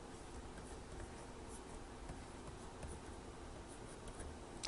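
A pencil draws lines on paper while sketching a face, giving a faint, continuous scratchy rasp with light strokes throughout.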